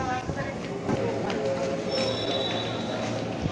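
A commuter train at Bojong Indah railway station in Indonesia rumbles steadily with rolling wheels and faint metallic squeals, close and continuous, with a voice faintly heard under it.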